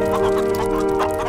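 Hens clucking steadily in cramped battery cages, a dense continuous flock sound with no talk.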